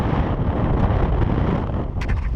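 Heavy wind buffets the microphone outdoors on a wet, gusty day by a dam, a continuous loud, low rumble with no break, with a few faint clicks near the end.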